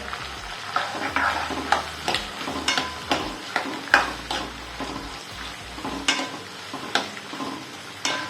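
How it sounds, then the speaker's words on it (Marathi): Chopped onion and pavta beans sauté in a hot pan, a steady loud sizzle broken by repeated scraping stirs every second or so, with no voices. "कांदा आणि पावटा मस्त परतू द्यायचा आहे"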